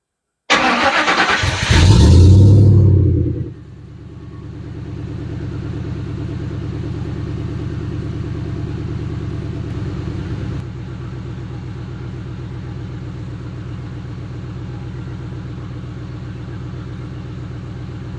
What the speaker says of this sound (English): I'll cold start the car